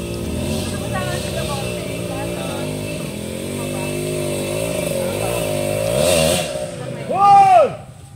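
A motorcycle engine idles and drones steadily outdoors on a mountain trail with people talking over it, then stalls near the end as a voice rises.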